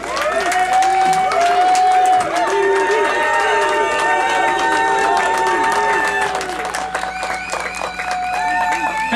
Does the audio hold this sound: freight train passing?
no